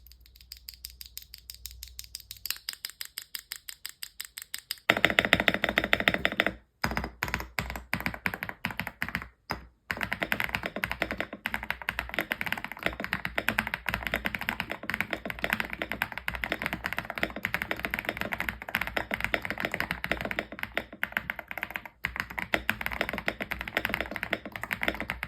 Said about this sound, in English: So a really nice sounding keyboard.